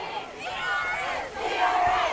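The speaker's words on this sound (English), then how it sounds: "Edgewood crowd's trying to fire this. Student section getting going here in the 3rd quarter." High school football student section crowd at Edgewood during the 3rd quarter against Lake Mills, a sustained roar of cheering and shouting voices that swells, dips briefly, then rises again.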